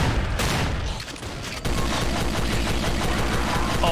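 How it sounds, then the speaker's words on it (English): Dense, rapid minigun fire from a Doom mod video game, a continuous loud rattling stream that dips briefly before surging back even harder and holding steady to the end. "Oh, the shooting animations are really smooth. Ah, minigun."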